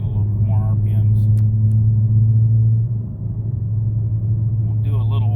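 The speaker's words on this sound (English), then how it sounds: "I'm gonna throw her down in sport mode here and get a little bit more RPMs" Dodge Challenger fitted with a BBK throttle body idling in sport mode with a deep steady engine drone, the pitch dropping briefly midway before settling back, close and loud, with faint voices over it.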